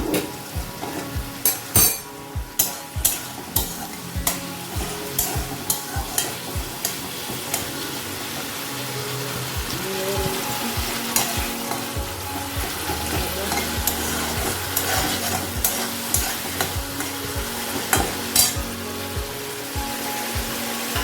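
Spices being stirred in a frying pan with salt and turmeric, a steady loud sizzle and fry with repeated scraping and clinking of a spoon against the pan, close and continuous.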